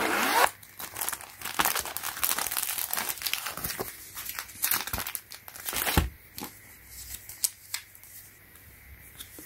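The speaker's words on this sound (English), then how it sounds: "So I come with this nice Ziploc bag" A plastic Ziploc bag is handled close by, giving a run of crinkling, rustling bursts with sharp crackles and short pauses, loud at first and fading toward the end, with no talk.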